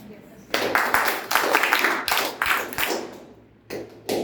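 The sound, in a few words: audience doing the energy clapping method in rhythm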